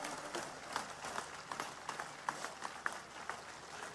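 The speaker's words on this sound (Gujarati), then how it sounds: "એકવાર આ બધા જ આગેવાનો તો બે હાથ ઊંચા રાખીને જોરદાર તાળીઓ પાડી લો બધા." Scattered applause from a large rally crowd at a community convention, faint and distant, with a few sharper claps standing out in an irregular patter.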